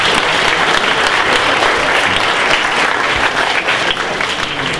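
A loud, full round of applause at a junior hackathon show-and-tell fills nearly five seconds, a dense, even rush of clapping close to the microphone that eases slightly near the end.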